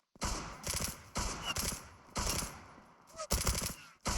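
Repeated bursts of automatic gunfire from a competitive first-person shooter match, several loud rapid volleys separated by short gaps, close and dominant with no talk over them.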